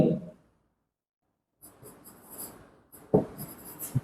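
Pen scratches across paper while an accounting trial balance is written out, a short burst of writing, then silence, then two more scratchy passages with a sharp tap.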